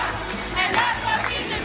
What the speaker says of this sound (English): As a crowd cheered them on.